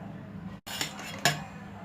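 A couple of light clattering knocks as mango is dropped into a blender jar, in a quiet room.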